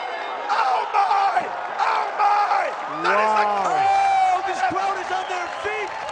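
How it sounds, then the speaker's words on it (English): A K-1 World MAX kickboxing arena crowd roars and cheers continuously on its feet, loud and dense throughout, with a commentator's excited voice calling over the din. "This crowd is on their feet."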